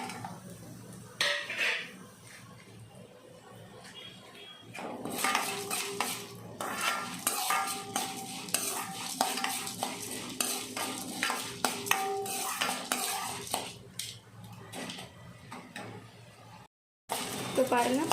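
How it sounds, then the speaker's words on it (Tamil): Cumin and fenugreek seeds are dry-roasted with lentils in a pan for eggplant kuzhambu. A spoon stirs and scrapes against the metal in repeated bursts, with a faint crackle, while a person talks over much of it. "ஜீரகம், வெந்தயம் இருக்குது. அதையும் 2 போட்டு இன்னும் நல்லா வறுத்துக்கலாம்."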